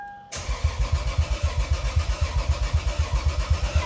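A 2003 Lexus IS 300 engine cranks over after a click, the starter churning in a steady, rhythmic pulsing whir close up without catching, a faint electrical whine running underneath.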